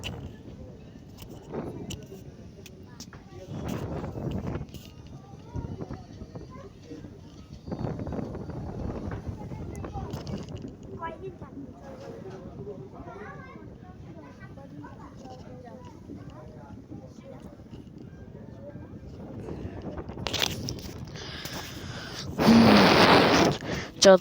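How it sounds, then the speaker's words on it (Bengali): Strong wind sweeps over the Meghna river near Chandpur at midday, a steady rush under continuous talk that swells into a loud, close buffeting gust on the microphone near the end. "মেঘনা নদীতে যেহেতু ঢুকে গেছি, প্রচণ্ড বাতাস হচ্ছে এখানে।"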